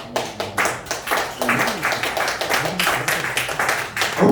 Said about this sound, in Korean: 박수를 치십시오.